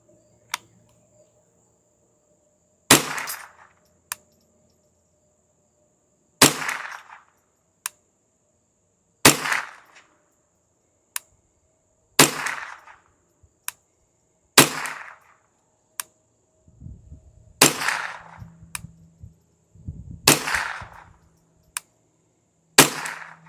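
.22 rifle fired from a carbon fiber sling-stud bipod at a range: about nine sharp, close shots spaced a few seconds apart, with quieter clicks of the action in between.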